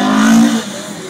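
A rally car, number 24, at Brean pulls off the start line on cold tyres with a loud, close engine roar that starts steady and drops away after about half a second, leaving a lower rumble.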